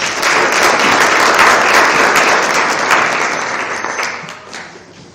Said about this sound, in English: A round of applause, colleagues.